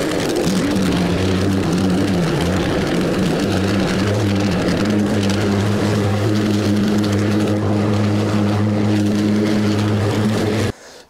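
A plate compactor runs continuously for a hot tub paver patio base, making a loud, close, steady engine drone with a strong low throb. It cuts out abruptly near the end.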